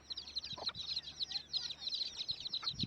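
Several hens cluck and chirp continuously in a busy, high-pitched chatter, close and fairly quiet, with faint background noise.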